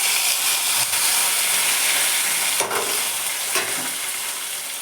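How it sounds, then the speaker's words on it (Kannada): Cumin, mustard seeds, curry leaves and onion fry in hot oil in a steady, loud sizzle, with a couple of brief stirring scrapes partway through. "ಈಗ ಜೀರಿಗೆ ಸಾಸಿವೆಗೆ ಕರಿಬೇವು ಹಾಕಿ ಉಳ್ಳಾಗಡ್ಡಿ ಹಾಕಿ ನೋಡ್ರಿ"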